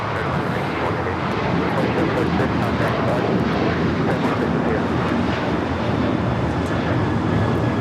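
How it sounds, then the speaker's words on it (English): American Airlines Boeing 737-800 taking off at Los Angeles airport, a loud, steady roar of jet engines filling the scene continuously, broad and rumbling without a break. "This is American Airlines 2746 taking off to Dallas Fort Worth on the 737-800."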